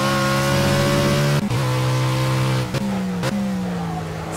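A race car engine in a racing video game at Brands Hatch holds a loud, steady high-revving drone with a rich harmonic whine, cut by three quick gear-shift dips before climbing again.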